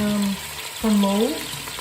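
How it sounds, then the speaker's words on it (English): Ground beef frying on low heat in a pot with a little olive oil, a steady close sizzle filling the brief clip, with a short hum from the pot interrupting partway. "I've gone ahead and just put the ground beef in the pot with a little bit of olive oil"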